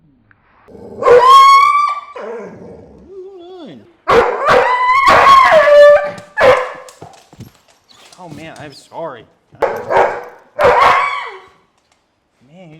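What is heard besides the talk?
loud dog howling and barking during chiropractic adjustment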